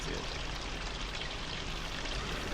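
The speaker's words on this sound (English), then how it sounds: "Bird is on top of the waterfall, in case you can't see it." Waterfall in a video game, a steady, dense rushing pour of water that holds at an even level from start to finish without breaks.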